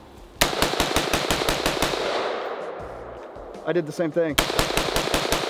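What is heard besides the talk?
rifle gunshots at range with muzzle brake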